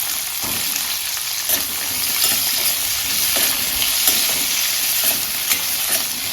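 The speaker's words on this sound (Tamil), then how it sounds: "இப்போ நம்ம கட் பண்ணி வச்சிருக்கிற காயை சேர்த்துருவோம்" Chopped vegetables and drumstick pieces go into a hot pot for Tamil-style sambar, with continuous loud sizzling and frying and occasional stirring scrapes throughout.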